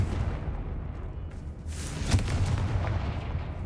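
Confringo fire spell explosion in Hogwarts Legacy: a rumbling game bed gives way to a sharp, loud blast burst around the middle, followed by a crackling, booming tail that stays dense and close to the end.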